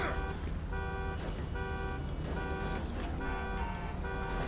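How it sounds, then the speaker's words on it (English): A car alarm in GTA 5 sounds over road noise, a repeating electronic tone pulsing in evenly spaced bursts roughly twice per second, loud and steady for the whole stretch. "Alarm's going off."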